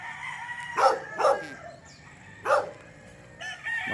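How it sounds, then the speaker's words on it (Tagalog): Roosters and hens on a roadside chicken farm in La Union crow and cluck, several loud nearby calls standing out at uneven intervals over a steady chorus of fowl. "Daming manok."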